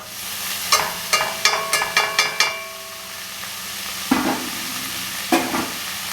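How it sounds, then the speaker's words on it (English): Dried mirepoix vegetables sautéing in hot oil for a Tuscan white bean soup give a close, steady sizzle broken by a quick run of sharp stirring scrapes, then two more isolated stirs later on. "And I'm just going to saute these."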